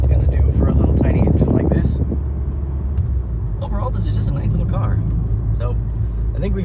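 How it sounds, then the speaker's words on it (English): A 2006 Scion xA with a small engine, rebuilt from a junker, driving on a bumpy road, heard from inside as a steady low rumble of engine and road noise with someone talking over it. "I've just been driving around for a little bit and she's doing good"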